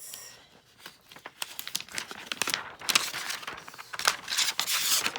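Plastic packaging being opened and sliced down the middle for a wood sublimation craft project, giving a run of crinkling and tearing rustles that grow louder and denser toward the end, with no talking.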